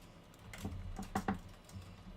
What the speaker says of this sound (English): I can't actually see my keyboard, so I usually just type without looking at it.